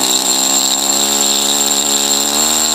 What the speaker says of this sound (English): The chisel tip on this air scribe,